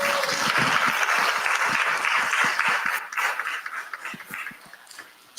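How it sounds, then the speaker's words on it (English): Conference attendees at RIDE CON 2024 clap for speaker Marlon, full applause that holds for a few seconds before tapering into sparse individual claps and ending abruptly. "Give Marlon a round of applause"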